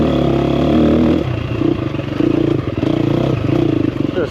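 A 2024 KTM 350XCF Factory Edition four-stroke dirt bike runs in its soft map, giving a loud, close engine drone that steps down and then pulses unevenly with throttle changes, along with some rattling clatter.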